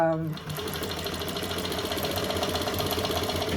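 A Techsew 4800 Pro sewing machine runs at a steady, rapid mechanical pulse throughout, close and continuous, with a voice speaking over it at first.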